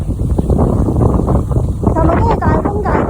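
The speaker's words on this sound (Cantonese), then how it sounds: "啲風仲勁過琴日啊！" Strong wind gusting across a hiking trail at Rhino Rock, a loud, steady low roar of microphone buffeting, with a voice speaking over it partway through.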